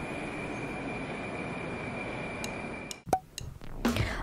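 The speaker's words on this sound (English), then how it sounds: "the second train is already coming" A Moscow metro train pulls into the station with a steady rumble that suddenly gives way to sharp metallic wheel squeals and clanks as it arrives.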